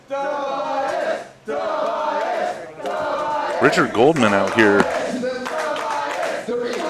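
A live professional wrestling crowd roars, chants and jeers loudly and continuously, rising in a sharp swell near the middle, while someone speaks over the noise.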